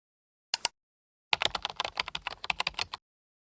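A short double tap on a computer keyboard, a brief pause, then a quick burst of crisp, close keystrokes as a single word is typed, with no voices.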